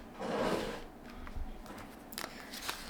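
A brief papery riffle of cards being shuffled, followed by a few light clicks and taps at close range.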